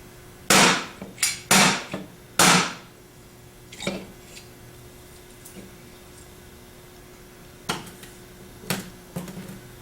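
An alternator is tapped down against the back of a metal vise: three loud, sharp knocks close together, then several fainter taps spread through the rest of the clip.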